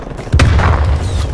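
A video game grenade detonates in a close, heavy boom with a sharp onset, followed by a rumbling, crackling tail that fades over about a second.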